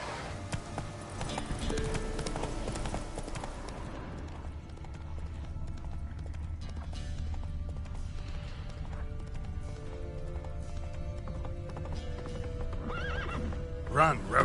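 A horse named Roach gallops with rapid, rhythmic clip-clop hoofbeats, and loud neighs and whinnies come over the top. Voices and other sounds run through the clip.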